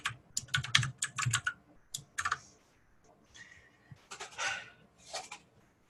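Students in a Python Pandas programming lecture typing on computer keyboards, bursts of quick clicking keystrokes with brief pauses between, fairly close and without talk.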